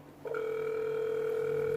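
A phone line tone begins abruptly and holds as a steady electronic hum while a call is placed, loud and continuous with no talking over it.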